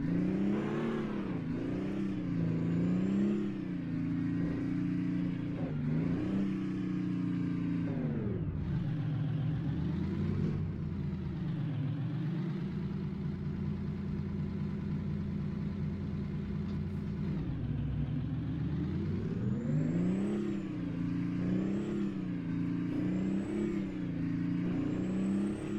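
A Kenworth K100 cabover truck engine in American Truck Simulator revs up and drops repeatedly, shifting through gears with sustained droning pulls and one dip around the middle, loud and close with no talking.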